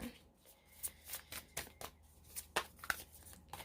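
Angels and Ancestors oracle cards are shuffled by hand in a series of quick, faint riffling bursts with soft taps between them, close and quiet, with no talk.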